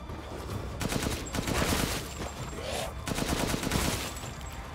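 Rapid gunfire in Resident Evil Village, with dense bursts of shots repeating across the whole stretch, loud and close, with no talk over them.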